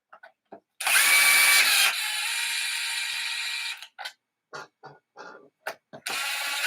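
A powered driver whirs steadily for about three seconds, loud and close, as it backs screws out of a Traxxas X-Maxx RC car. It is followed by short, stuttering bursts of the tool.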